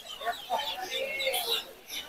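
Chicks and ducklings for sale at a village market in Lauhati, Delduar, Tangail give high, repeated peeping cheeps close by, with background voices from the market crowd.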